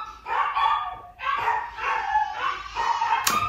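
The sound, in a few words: dogs barking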